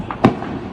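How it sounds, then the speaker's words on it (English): A single loud explosion over Srinagar near Dal Lake during India-Pakistan hostilities, one sharp short blast standing out in an otherwise quiet moment. "Loud explosions continuing to be heard."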